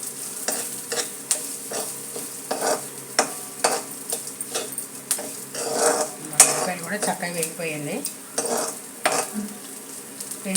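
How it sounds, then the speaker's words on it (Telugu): Onion pieces frying in a pan for eggplant pulusu pachadi, a sizzle broken by repeated spatula scrapes and clinks against the pan, with faint talk at times. "ఇదిగోండి ఉల్లిపాయ ముక్కలు కూడా వేగాయి."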